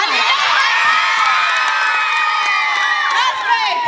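Children at a parish summer camp shouting loudly together, a dense crowd of high cheering voices and whoops sustained at full volume from start to finish.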